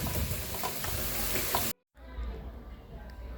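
Sliced onions fry in a pan with a loud, even sizzle and faint stirring knocks. The sound cuts off abruptly for a moment, then returns as a quieter, softer frying hiss.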